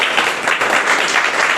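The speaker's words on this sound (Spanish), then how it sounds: "Vamos a darle un aplauso al Señor" A Spanish-speaking church congregation bursts into loud, dense applause, a continuous roar of many hands clapping together.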